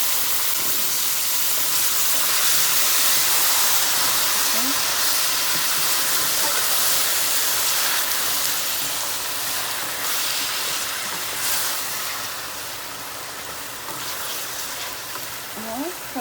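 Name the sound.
okra added to frying onions, sizzling in pan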